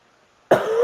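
A single sharp cough bursts out after a moment of near silence and trails into a rough, sustained exhale, loud and close to the microphone.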